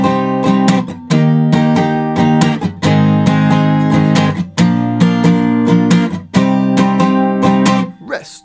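Guitar plays the line of a song in a lesson setting, a loud, steady run of strummed and picked chords with short breaks, no talking over it.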